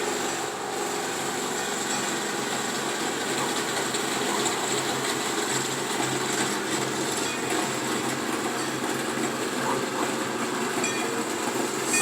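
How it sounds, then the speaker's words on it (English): A small tourist road train drives past steadily on a street, with a continuous rumbling whir and faint rattling that stay fairly even from start to finish, and no one speaks. "we hear a little choo-choo train driving around here on the street"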